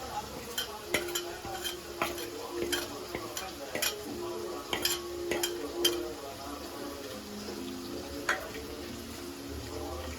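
A spoon scrapes and taps steadily through goat intestine gravy as ground cumin, fennel and chili paste are mixed in, a soft sizzle running underneath the repeated clinks against the pan.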